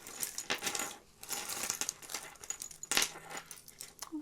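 Small costume jewellery pieces, such as a faux shell pendant on a silver tone chain, clinking and jingling as they are set down onto a pile, with light metallic taps and rustles, close and quiet.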